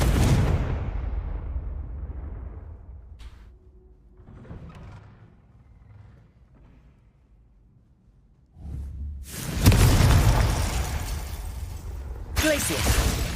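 Confringo spell explosions in the game Hogwarts Legacy, a booming blast that fades over a few seconds, then quieter game sounds, and later two louder bursts of noisy rumble, with a player speaking.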